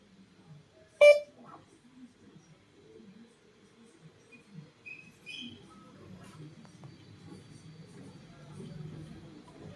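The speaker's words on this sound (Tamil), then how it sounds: "பீப் சவுண்ட் வந்தது" A single sharp electronic beep near the start as an Imou CCTV camera resets, followed by quiet low-level talking and faint background noise.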